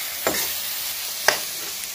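Masala sizzling in a pan as it is stirred, a soft, steady frying hiss with two distinct scraping strokes of the spoon, close and fairly quiet.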